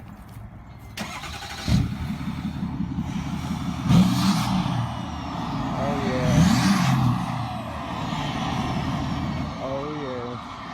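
A Ford Powerstroke diesel truck with a 5 inch straight pipe revs hard several times up close, deep loud exhaust bursts over a rumbling idle, with people exclaiming and talking between revs.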